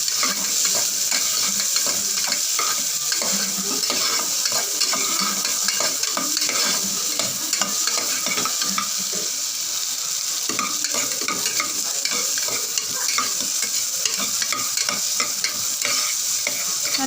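Small onions sautéing in hot oil with mustard seeds and urad dal for a Madurai-style green chilli mutton gravy, a steady close sizzle running throughout while a utensil stirs and scrapes the pan, with no talk.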